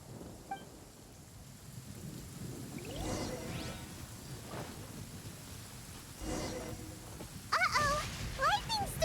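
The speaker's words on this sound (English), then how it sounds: "Uh-oh! Lightning storm!" A thunderstorm in the video game Genshin Impact, with steady rain, rolling thunder rumbles and brief bright cracks, while a voice speaks near the end.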